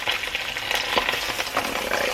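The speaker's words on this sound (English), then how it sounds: "so we got the other side crisping up" Food frying in a pan as it crisps on its second side, making a steady close sizzle with scattered soft pops and stirring scrapes, no voices.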